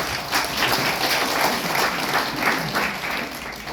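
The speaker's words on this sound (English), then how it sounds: "Please give yourself a round of applause." Applause from an audience at a Sunday learning session fills the moment with a steady, dense wash of many hands clapping together, fading slightly near the end.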